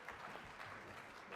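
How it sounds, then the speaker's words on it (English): An audience applauds steadily at a live fireside chat event with a congressman, a dense, even patter of clapping that holds at a moderate level throughout the short stretch. "So a big round of applause for Congressman Castro and Steve Clemons."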